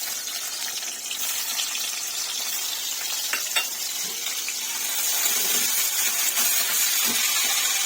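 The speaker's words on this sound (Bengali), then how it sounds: "আর এখানে যে টমেটোগুলো কেটে রেখেছিলাম সেই টমেটোগুলো তেলের উপর দিয়ে দেবো" Chopped tomatoes dropped into hot oil with black cumin seeds, producing a steady hissing sizzle that grows louder partway through, with a few faint clinks and no voices.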